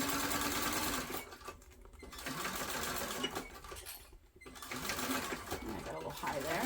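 A sewing machine runs in fast, rattling bursts, basting stitches on a backpack, with short pauses between runs and a person talking quietly over the machine.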